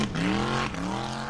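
A Formula Offroad buggy climbs a steep hill at the 2023 Icelandic round in Egilsstadir. Its engine revs loud and near, rising steadily in pitch, then dips briefly before pulling again.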